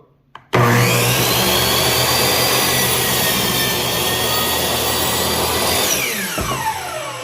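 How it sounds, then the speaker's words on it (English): A power saw starts abruptly and cuts steadily through wood for about six seconds, loud and close with a continuous whining buzz that lowers and trails off near the end. "I'm just measuring up to make sure that the saw blade hits where I need it to hit, and then we're gonna cut"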